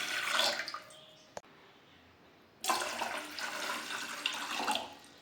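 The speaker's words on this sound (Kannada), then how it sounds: "ಈ ಗ್ಲಾಸಲ್ಲಿ 2 ಗ್ಲಾಸ್ ಅಷ್ಟು ನೀರು ಹಾಕ್ಕೊಳ್ತೀನಿ ನಾನು ಮೊದಲಿಗೆ." Water poured into a glass before preparing ragi ambali, a fermented finger millet drink, with a brief splash, a pause, then a longer steady rushing pour close by.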